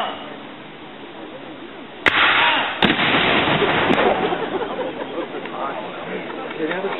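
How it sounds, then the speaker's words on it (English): Confederate cannon at a Civil War reenactment fire two sharp, loud booms a second apart, then a fainter third report, over crowd chatter and outdoor noise. "Confederate guns are very deliberate firing."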